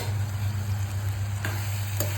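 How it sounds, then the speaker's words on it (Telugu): Mutton keema with tomato and chilli powder is stirred in a pan over steady sizzling, with a couple of brief spoon scrapes against the pan. "మంచిగా కలపాలి."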